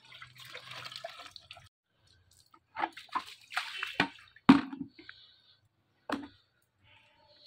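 Cold water splashing during washing, with a soft trickle at first, then a quiet gap, then several distinct splashes and drips, close and fairly faint.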